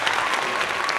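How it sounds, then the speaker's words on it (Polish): Brief burst of applause from a small studio group, steady and fairly loud, alone without talk. "No brawo dla nas jakieś."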